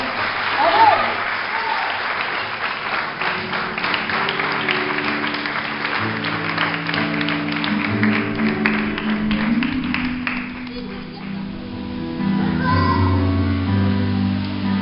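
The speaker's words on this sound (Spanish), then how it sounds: "Dale un fuerte aplauso al Señor." A church congregation claps steadily for the Lord through the whole stretch, with voices and sustained music tones running underneath, loud and close.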